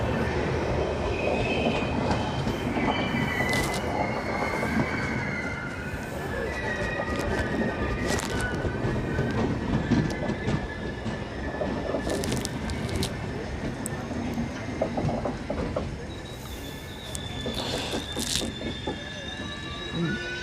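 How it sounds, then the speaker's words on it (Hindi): Ganga Sutlej Express passenger train arriving and coming to a stop at a station, with steady rumbling wagons, wheel noise and squeals over about twenty seconds, loud and close, amid faint background voices. "गंगा सतलुज एक्सप्रेस आकर रुक चुकी है।"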